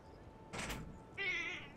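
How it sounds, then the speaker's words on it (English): A pet cat named Cleo wanting to climb into a lap gives a short, faint meow, preceded by a soft brushing rustle nearby. "My kitty wants to get in my lap."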